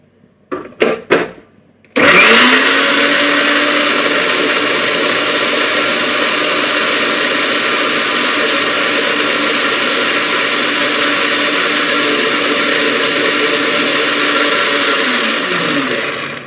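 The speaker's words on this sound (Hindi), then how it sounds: "तो मैं इसको ग्राइंड कर लेती हूँ पहले।" A mixer grinder blending banana into baby food starts after a few short clicks and runs as a loud, steady, close whirring drone for about fourteen seconds before slowing down at the end.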